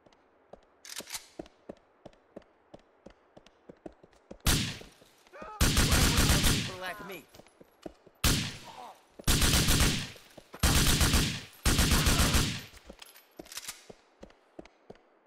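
Gunfire in Grand Theft Auto 4 inside an office building, where a steady run of sharp single shots gives way to several loud, sustained bursts of rapid automatic fire, close and harsh, with a voice briefly heard among them.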